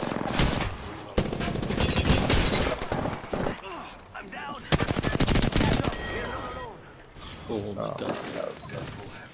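Rapid bursts of gunfire from Apex Legends, played on a PS4 Pro, come in loud clustered volleys with brief gaps between them, while players talk excitedly over the shooting throughout.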